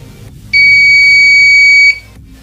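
The buzzer of a homemade proximity sensor gives one loud, steady, high-pitched beep lasting about a second and a half, close by and otherwise alone.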